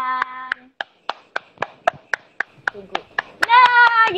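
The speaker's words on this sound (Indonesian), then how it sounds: "Aku siapkan tepuk tangan." Hand claps at a quick, steady rhythm, about a dozen sharp, evenly spaced claps, with a voice or tone running beneath and over them near the end.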